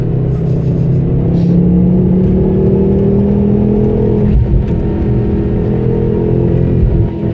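A Ford Focus RS engine roars under heavy load climbing a 12% grade on the Grossglockner road, a loud sustained drone that shifts pitch slightly as it labors, heard from inside the car.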